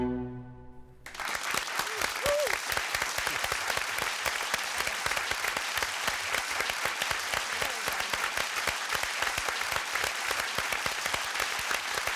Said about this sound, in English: You deserve more applause, but this is all we have.